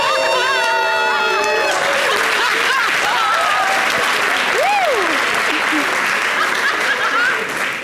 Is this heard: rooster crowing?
no